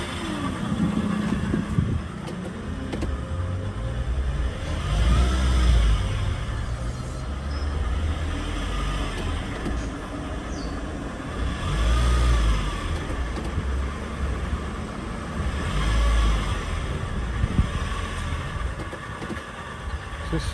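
A car with a struggling gearbox drives along, its engine droning and swelling in repeated low surges with road rumble, while people talk over it.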